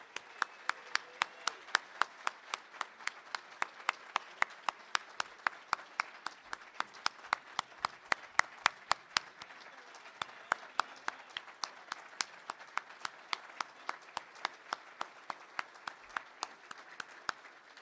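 Steady audience applause fills an awards luncheon hall, a long run of rhythmic, fairly close hand claps that holds at an even level and thins briefly near the middle before picking back up.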